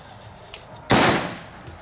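A small one-gram firecracker bangs once with a sharp loud report that trails off. A fainter pop comes just before it, against quiet outdoor background.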